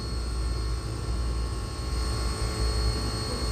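A Chevrolet ZR1 LT7 V8 making 1,064 horsepower runs on a dyno, giving a loud, steady, broadband roar that holds an even level throughout without clear rises in revs.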